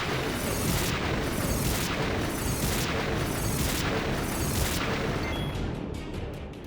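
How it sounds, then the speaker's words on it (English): Fire gems exploding in the Final Fantasy X HD video game, a dense sustained roar of blasts pulsing in roughly second-long bursts, loud throughout and fading slightly at the end. "Let's just chuck some fire gems. That should do some substantial damage to the guy."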